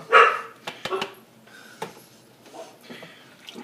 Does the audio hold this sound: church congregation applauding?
no